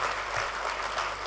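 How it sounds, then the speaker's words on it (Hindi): Sparse, scattered applause from a mushaira audience in Indore, a brief thin patter of a few hands clapping under a dull room hum. "ये छिटपुट तालियां जो आती है ना, मज़ा नहीं आता"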